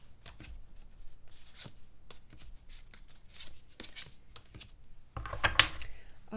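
Tarot cards being shuffled and pulled from the deck, soft close riffling and flicking with scattered crisp snaps, faint and intermittent, ending in a louder rustling burst.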